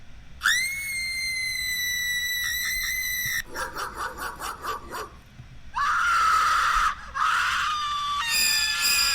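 Built-in alarm tones from Mac spy cam security software: a loud shrill electronic wail, then a rapid warbling pulse, followed by another sustained siren-like scream and a brief harsh burst, all close and alone.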